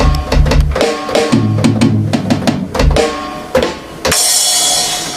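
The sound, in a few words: music played through Tannoy near-field monitor speakers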